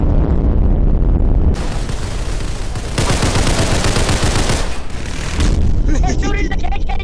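Dense, continuous gunfire roars close and loud for several seconds in a chaotic night scene at an event, with people shouting over and between the bursts.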